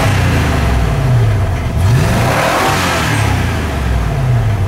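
Ford F150 with upgraded jets revving steadily with its mufflers touching, a loud, continuous low engine roar that rises and falls in pitch through repeated revs, with no talking.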